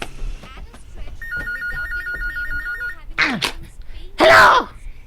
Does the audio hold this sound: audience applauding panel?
no